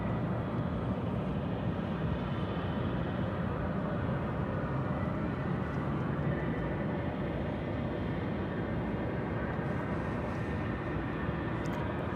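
A CRJ 701ER regional jet arrives at DFW Airport after a short flight from San Angelo, its engine noise a continuous moderate roar that stays fairly even and distant throughout, with no talking.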